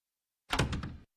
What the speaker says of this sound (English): Cleveland, slam the door